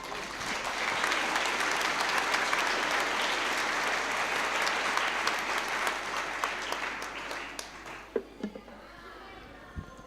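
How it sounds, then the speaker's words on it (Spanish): A church congregation breaks into sustained, loud applause that fills the room for about eight seconds, then thins quickly into a few scattered final claps and near quiet. "¿Cuántos pueden darle un aplauso al Señor por ello?"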